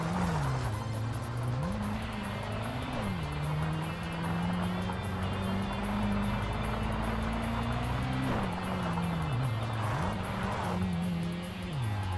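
A car driving on gravel in Tokyo Xtreme Racer: Drift 2, its engine droning steadily and rising and falling in pitch under a constant rough crunching hiss.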